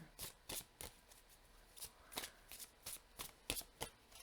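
Soft riffling of oracle cards being shuffled for a tarot reading, repeated quick ruffles in an irregular rhythm, close but faint, with no talking.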